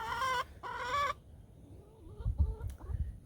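Backyard chickens cluck in a garden flower bed, with two clear bursts of clucking close by followed by quieter, scattered calls and faint background noise.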